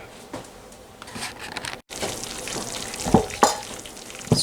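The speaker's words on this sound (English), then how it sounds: "here we make the final stir of the polenta." Polenta stirred in a pot, a close bubbling, sizzling texture with a brief pause and several sharp scraping strokes of a spoon toward the end, no talk.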